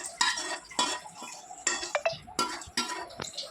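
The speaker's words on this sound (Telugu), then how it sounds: "గరిటతో అంతా బాగా మిక్స్ అయ్యేటట్టు కలుపుకోవాలి" A ladle stirs a mixture of ghee, sugar and semolina in a pan, producing separate bursts of scraping and clinking at irregular intervals, close by, with no voices.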